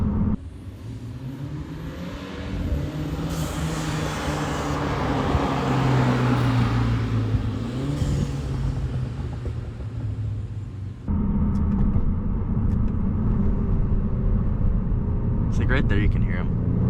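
A hardtop convertible car drives past outside, its exhaust rumbling and burbling as it passes, with a sharp change in the engine sound midway and someone talking over it throughout.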